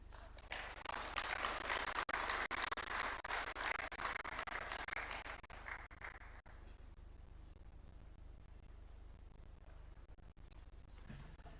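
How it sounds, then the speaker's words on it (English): An audience at a Kenyan automotive industry event applauds after a speech. A dense, steady wash of clapping lasts about six seconds, then fades to a quiet room hum. "Another round of applause, please, for her."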